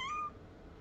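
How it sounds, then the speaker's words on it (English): A house cat gives a short, rising meow up close, a single call lasting under a second before trailing off into quiet room tone. "My cat is being psychotic. Meow."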